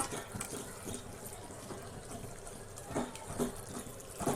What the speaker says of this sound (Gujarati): જો મસાલા બળતા હોય તો તમે અત્યારે તેની અંદર થોડુંક એવું ગરમ પાણી એડ કરી શકો છો.